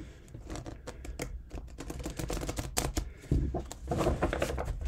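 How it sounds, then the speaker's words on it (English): Tarot cards being shuffled close up, a dense run of quick papery riffles and taps that grows louder toward the end. "I'll give this one more shuffle."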